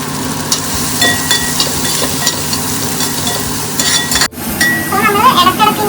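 Onion, ginger and green chillies frying in oil for a duck roast, a loud close sizzle with clinks and scrapes of stirring in a pan and a brief break before the frying continues.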